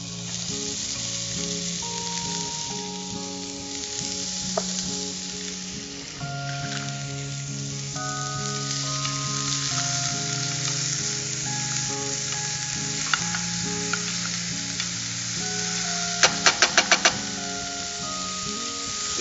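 Finely chopped onions hiss and sizzle in hot oil with cumin and fennel, a steady close frying crackle that runs the whole time, with a quick burst of utensil clatter near the end and no one talking.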